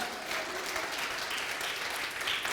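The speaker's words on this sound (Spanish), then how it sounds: "Dale un aplauso al Señor por eso, hermano." A church congregation claps together during a Spanish-language sermon, a steady, even wash of applause held at moderate volume for the full stretch with no voices over it.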